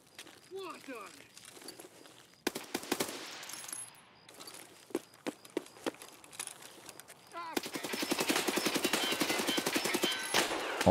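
Video game gunfire in a hardcore reserve raid, sharp shots and rapid bursts scattered through the clip, the densest volley near the end, with a voice talking over parts of it.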